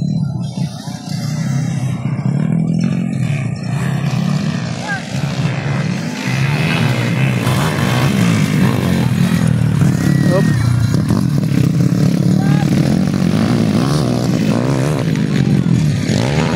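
Motorcycles racing at Sagbayan race track, with loud, continuous revving engines buzzing and whining close by as people talk over the noise.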